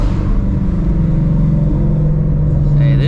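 A Ford Shelby GT350 on a city street at night holds a deep, loud, rumbling engine drone that lifts slightly in pitch toward the end, with a voice talking over it.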